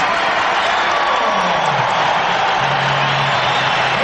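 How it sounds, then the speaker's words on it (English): A sellout arena crowd of over 20,000 at the Coliseum in Richfield, Ohio applauds a player during the NBA All-Star Game, a broad steady wash of clapping and cheering that fills the hall without pause. "the people are giving him a very deserved round of applause"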